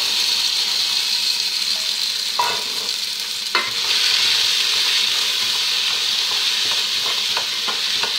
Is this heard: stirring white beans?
yes